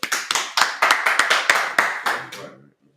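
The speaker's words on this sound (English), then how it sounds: "Clap that up." Small group clapping at the close of a Sabbath service, roughly a dozen loud, distinct claps in a fast rhythm that slows and stops after about two and a half seconds, followed by quiet.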